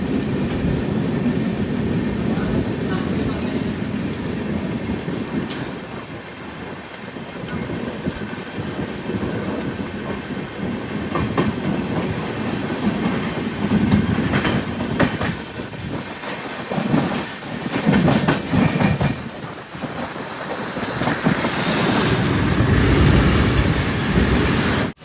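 Kerala Sampark Kranti Express running toward Kozhikode after leaving Tirur station, with a steady loud rumble of wheels and carriage noise, rhythmic clickety-clack bursts and brief squeals as the cars sway along the track.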